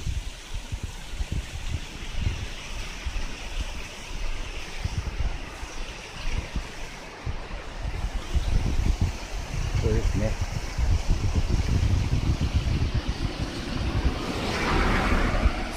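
The Fukugataki waterfall in Chizu, Tottori sends out a steady, broad rush of falling water that grows a little louder partway through and fills the whole scene.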